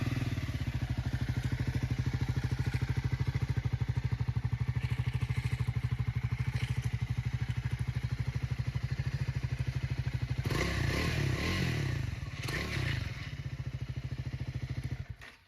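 Triumph Scrambler 400 XC motorcycle engine idling close up with a deep, even thumping beat, briefly swelling with a few blips of throttle near the end.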